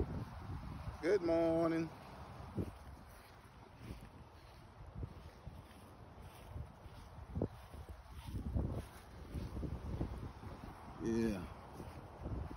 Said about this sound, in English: Beautiful out here this morning. Nice and breezy.